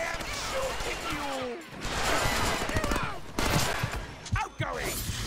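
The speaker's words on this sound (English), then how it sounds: "I am shooting you!" Rapid bursts of gunfire and crashing impacts from the Deadpool video game, dense and loud, with shouted voices mixed among the shots.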